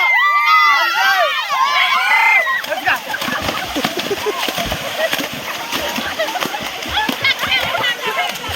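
Water splashes continuously at a waterfall while a crowd of people talks, shouts and calls out over it, with high excited voices loud at the start.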